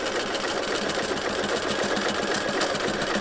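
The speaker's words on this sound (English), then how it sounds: "So now I'm going to stitch over it again." A sewing machine stitching a wide, short satin stitch over a circular applique edge hums in a continuous, even, close-up buzz with no pauses and no speech.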